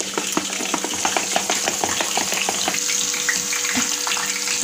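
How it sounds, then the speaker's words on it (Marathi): Green chillies fry in hot oil for mirchi bhaji, a dense, bubbling sizzle with crackling pops that holds steady and close throughout. "छान असं आपण तेलामध्ये तिला तळून घेणार आहोत"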